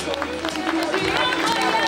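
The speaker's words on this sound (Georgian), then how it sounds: "ტაში" Applause and cheering from a festival crowd at a televised art festival in Mtatsminda, Tbilisi, heard as a steady dense wash of claps throughout, loud and continuous.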